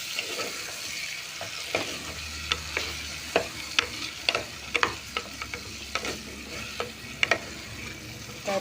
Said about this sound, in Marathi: त्याच्यामध्ये हा टोमॅटो घालते आणि हे साहित्य सगळं व्यवस्थित मी एक 5 मिनटं परतून घेते.